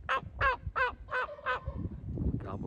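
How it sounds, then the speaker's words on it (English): Five rapid honking calls from a wild turkey outdoors on a windy day, sounding loud and fairly close, then fading into wind noise. "He's gobbling all around."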